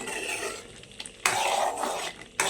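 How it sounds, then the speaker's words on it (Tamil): Garlic fries in oil in a pan while a spoon stirs it, with steady sizzling broken by two sudden louder bursts of spitting and scraping, nearby and without speech. "உப்பு போட்டு கிளறி வச்சிடணும்"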